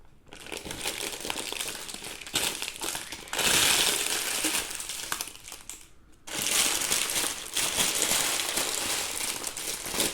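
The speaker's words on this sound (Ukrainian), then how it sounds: "Тепер загортаємо в пергамент або фольгу." A leg of New Zealand lamb seasoned with cumin is wrapped in parchment or foil, with loud, continuous crinkling and crumpling close by and a brief pause partway through, with no voices.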